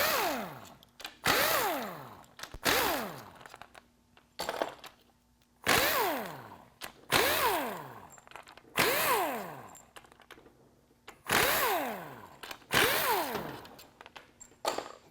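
Power tool removing valve body bolts from a 700R4 automatic transmission: about nine short, close whirring bursts with falling pitch, spaced roughly every one and a half seconds with brief pauses between, and no talking.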